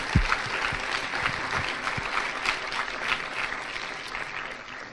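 Audience applauding after a talk at an evening event, a steady wash of clapping from a medium-sized crowd, moderately loud and holding throughout before tapering slightly.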